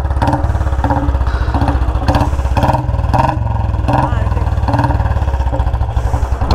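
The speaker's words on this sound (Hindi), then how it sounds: "बुलेट की साउंड सुनने के लिए आ गया" A loud Royal Enfield Bullet motorcycle engine thumps and revs in a steady, pulsing rhythm, close and continuous throughout, with a few rattly clatters mixed in.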